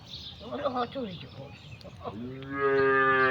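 Goats on a farm: a person talks briefly, then a single loud, drawn-out bleat rings out close by, ending the moment.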